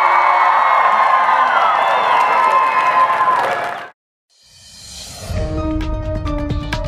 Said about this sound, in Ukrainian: А тепер ваші оплески